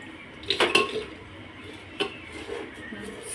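Chopped potato, cauliflower, peas and carrot dropped into a pressure cooker, a short cluster of clattering knocks with a metallic ring, then a single softer tap, close by and otherwise quiet.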